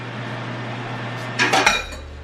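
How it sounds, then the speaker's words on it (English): Baked macaroni and cheese is mixed with cheese sauce (béchamel) in a pan, heard as a short burst of metal utensil clinks and scrapes over a steady low kitchen hum. "So I'm gonna just mix this up so that each piece of macaroni is covered in some bechamel."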